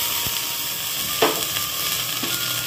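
Ginger-garlic paste sizzles in a pan of fried onions, a steady close frying hiss throughout with a couple of brief stirring scrapes, no voices.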